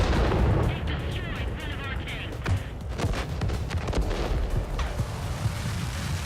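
Tank ammo rack explosion in a tank battle video game, a heavy booming blast followed by rumbling debris and scattered cracks, with someone talking over it.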